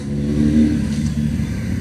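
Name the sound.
motorcycle with altered silencer revving loudly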